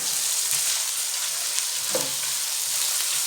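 Dragon chicken being stirred in a hot pan, a steady sizzle and frying hiss with faint scrapes of the spoon against the pan, running throughout without talk.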